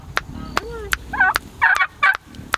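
Turkeys near a coop give a few short warbling gobbles and calls, close and moderately loud, between sharp clicking knocks.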